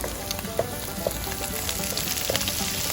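Prawns sizzle in a hot pan for pad thai, giving a steady, close frying hiss with small crackles and pops throughout.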